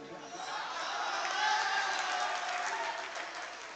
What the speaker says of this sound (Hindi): कसम है केवल वो लोग ताली बजाना जिन्हें बात समझ में आए